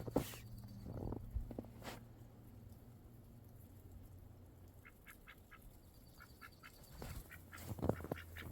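Faint, distant duck quacking in a few short bursts of three or four calls over a quiet, snowy outdoor hush, with some low rumbling early on.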